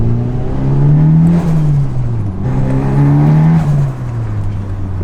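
A car engine, a fast car running on cheap parts and short on tire grip, pulls hard with a loud rising drone that climbs in pitch, dips at a gear change around midway, then climbs again, heard close and steady with no talk.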